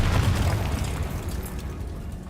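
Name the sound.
Confringo spell explosion in the Hogwarts Legacy video game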